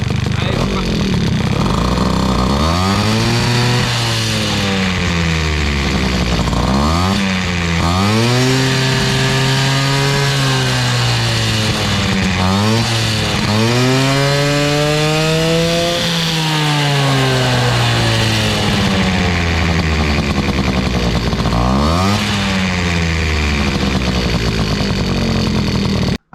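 A small engine with a Bidalot piston climbs from idle into repeated rising and falling revs, loud and close with a rough buzzing tone, talk audible over parts of it.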